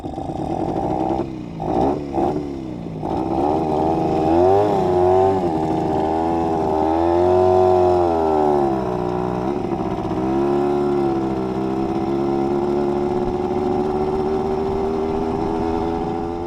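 Panther/Villers Model 35 motorcycle with a Dynastart, riding in second gear: a loud, close, buzzing engine drone that rises and falls in pitch as it pulls along, with a few sharp blips early on.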